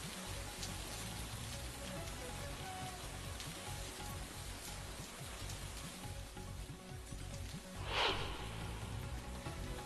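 Heavy, cloudburst-like rain in Maharashtra pours down in a dense, unbroken hiss of drops striking surfaces, with a brief gust-like swell near the end.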